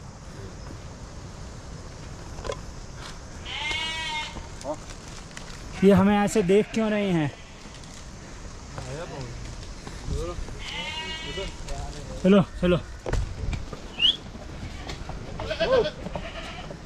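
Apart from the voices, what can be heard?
flock of sheep and goats bleating on mountain trek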